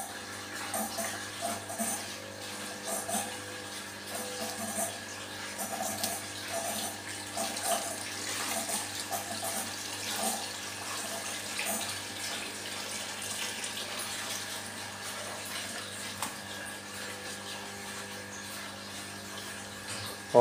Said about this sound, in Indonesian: Jadi langsung saja kita tambahkan air